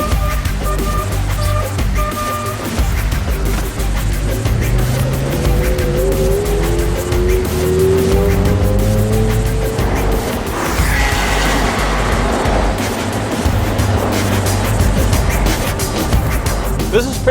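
A 55-year-old Citroen DS drives hard up a mountain pass, its engine droning and shifting pitch continuously for the whole stretch with tyre squeal and road noise, loud and close, with occasional voices in the cabin.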